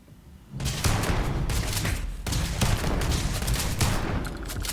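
Sustained bursts of automatic gunfire from the space combat game Starfield, loud and dense across the clip with brief breaks between volleys, no voices over it.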